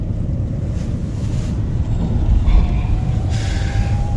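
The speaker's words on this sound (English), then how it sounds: "Back on the train" Steady low rumble of a moving train carriage leaving Maltby, Yorkshire, with wheel and track noise, a faint high whine and some wind buffeting; no talking.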